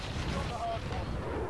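A short burst of distant gunfire and booms in Call of Duty: Modern Warfare, heard as a dense rumbling barrage that is partly masked by a voice talking over it.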